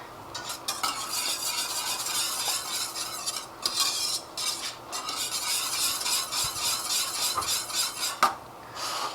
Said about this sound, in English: then just stir to mix it all together